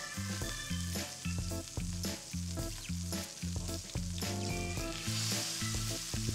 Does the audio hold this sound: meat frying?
yes